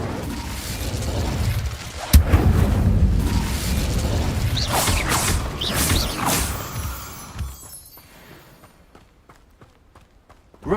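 A fire spell cast in Hogwarts Legacy gives a sudden loud whoosh and burst of flame, roaring on for several seconds before fading into quieter magical effects and scattered clicks.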